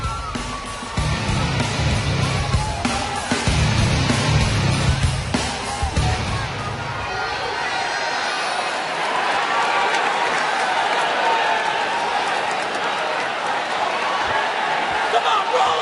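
A sellout wrestling crowd of over 16,000 in Boston roars at a Hell in a Cell match, with loud cheering and applause swelling after thuds and impacts early on, and commentary running over the top.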